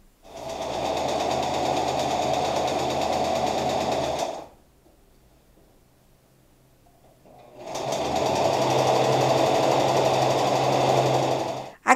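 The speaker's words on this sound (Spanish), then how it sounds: "pasamos una costura recta a todo lo ancho" A sewing machine runs steadily as it stitches a straight seam across folded fabric, loud and close. It runs for about four seconds, falls quiet for roughly three, then starts again and keeps going to the end.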